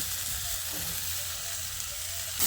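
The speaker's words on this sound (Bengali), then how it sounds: "এবার আমি এর মধ্যে গ্রেট করা আদা আর রসুনটা দিয়ে দিচ্ছি।" Grated ginger and garlic sizzle steadily in hot oil alongside frying potato and pointed gourd, a continuous close hiss with no talking.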